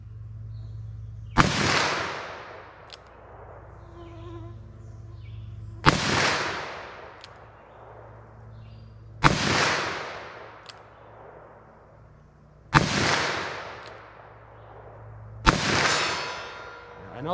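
Five sharp shots from a .357 Magnum or .40 S&W, spaced a few seconds apart, each followed by a ringing clang as the bullet strikes a steel target at long range.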